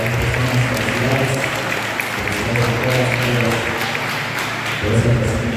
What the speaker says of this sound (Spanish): todos los aplausos a las personas consideradas